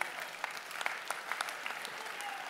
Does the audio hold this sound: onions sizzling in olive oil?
no